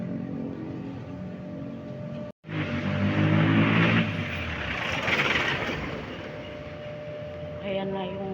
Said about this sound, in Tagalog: Ayan na yung jeep.